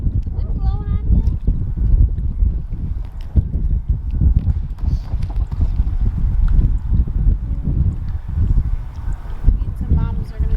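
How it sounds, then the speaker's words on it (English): High winds buffet an outdoor pool with 58-degree water, a constant loud, gusty rumble on the microphone as people talk. "Wind blowing on you?"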